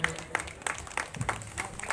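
Audience clapping at a festival opening ceremony, an uneven scattering of hand claps at moderate distance with room echo, steady for about two seconds.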